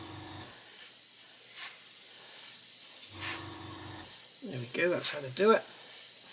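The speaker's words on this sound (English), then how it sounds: "We'll try and keep the airbrush in the sort of direction. And that way we'll blow some soot onto the front of that radome." Airbrush spraying soot-colored paint onto the radome of an Airfix 1/48 Sea King scale model, a constant soft hiss running throughout, with short low compressor-like bursts and someone speaking briefly near the end.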